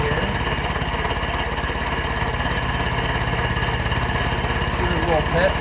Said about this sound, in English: The rust on that sleeve getting cut off right here.